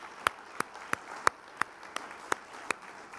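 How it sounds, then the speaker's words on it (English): Conference audience applause heard as sparse, evenly spaced single claps, about eight sharp hand claps over a few seconds, faint and distant against a quiet room. "Let's give Tom and Luis a round of applause"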